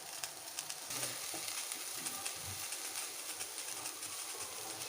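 Tomatoes sizzling and frying in a hot pan for mint chutney, a steady soft crackle close by with occasional stirring clinks, quiet and continuous with no talk.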